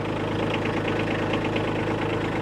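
A Kubota B2601 compact tractor idles with a steady, close, rhythmic diesel chug and knock that holds even throughout, with no voices.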